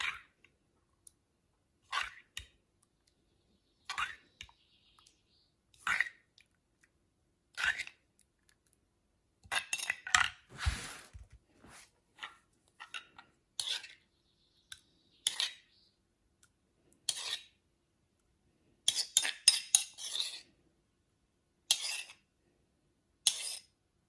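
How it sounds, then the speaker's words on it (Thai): A spoon scoops food into a bowl in a series of sharp, scattered clicks and scrapes, some single and some in quick clusters, close and fairly quiet against near silence. "เขาก็มาตักใส่ถ้วยเลยนะคะ"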